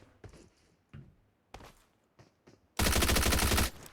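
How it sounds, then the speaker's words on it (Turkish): Gunfire in the PUBG Mobile battle royale game: a few scattered single shots followed by a loud sustained automatic burst, with no talking. "Oradan bayağı bir sıkıyorlar."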